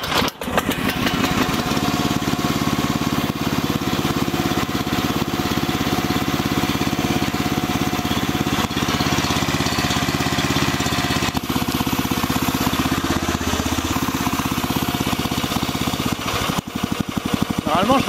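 A brand-new small engine runs on its first start-up, a loud, close, continuous buzzing drone with a steady throttle that shifts slightly near the end as it cuts out.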